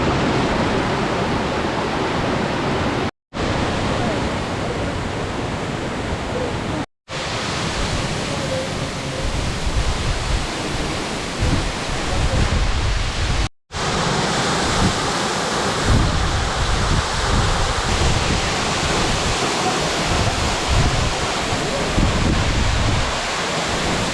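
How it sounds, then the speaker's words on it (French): Continuous roar of a waterfall heard from the top of the first falls amid lush vegetation on Saint Vincent, a loud, steady broadband rush with a few brief dropouts. "Nous sommes en haut de la première chute."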